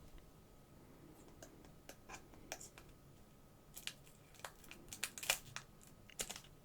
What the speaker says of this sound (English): Let's get this one open. We'll cut the top off.